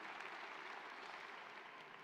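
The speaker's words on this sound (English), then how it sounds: "That deserves some applause." A graduation ceremony audience applauds in a steady, distant wash of clapping that holds at an even level, fairly faint and without a break.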